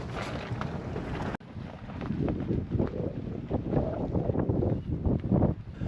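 Strong gusting wind at a mountain camp on Kilimanjaro, loud buffeting rushes and flapping against the microphone that swell and fade unevenly, after a brief abrupt cut.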